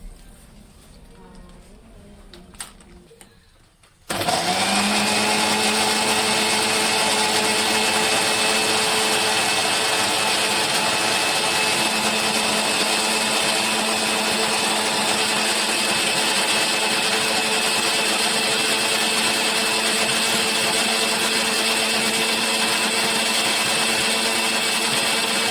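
A kitchen blender grinds carrot with sugar and milk, starting abruptly after a few quiet seconds and then running as a steady, loud, unbroken whir for over twenty seconds.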